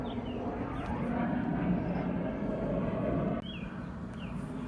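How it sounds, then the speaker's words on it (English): Airplane passing overhead outdoors, a broad, steady rumbling roar holding at moderate loudness, with faint bird chirps above it. "You see the airplane?"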